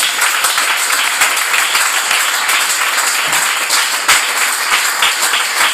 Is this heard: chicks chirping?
no